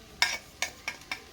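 A spoon stirs ginger-garlic paste in a pot over a wood-fired stove while biryani is cooked, giving four short scraping strokes with soft sizzling between them. The sound is close and fairly quiet.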